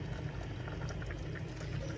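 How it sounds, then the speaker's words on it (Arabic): Chicken pieces simmering in a pot on the stove for a sweet Moroccan pastilla, a steady low bubbling and hiss running evenly throughout with no talk over it. "صافي الدجاج ديالي راه بدا كيغلي، يعني بدا كيطيب"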